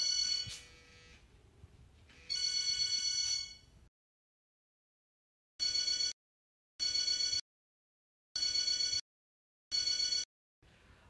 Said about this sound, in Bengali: এই সুমনা, আরে কি হলো, কি ফোনটা ধরবে তো?